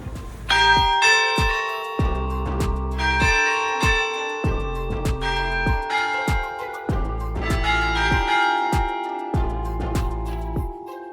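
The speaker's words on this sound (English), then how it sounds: "Watch out for the bell though, it's insanely loud when it goes off every 15 minutes." A very loud bell high in a city tower in Iceland rings out in a steady series of ringing strikes, each one booming and overlapping the hum of the last, with no voices.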